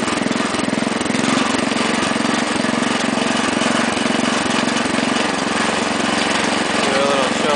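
A Wheel Horse garden tractor engine idles roughly and loudly up close, a steady uneven chugging drone that runs the whole time with no break.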